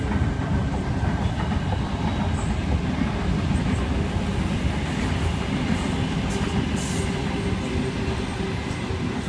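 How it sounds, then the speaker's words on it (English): A Sydney passenger train departs a station platform at night, rumbling steadily along the rails with a low, continuous roar and faint clatter, close by and without a break. "Now departing platform number 2, we have a Hurstville service stopping at Awala."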